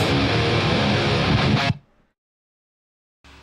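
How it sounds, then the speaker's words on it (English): A thick, bass-heavy distorted guitar chord, almost all low mids and bass, rings loud, then is abruptly cut off, leaving silence before a low rumble returns at the end. "This guitar track is almost all low mids and bass."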